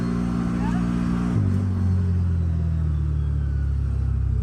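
A CFMOTO off-road vehicle with an RNG Performance clutch kit pulls in low gear, its engine droning loud and close, then dropping in pitch and settling into a steady, heavy hum under load.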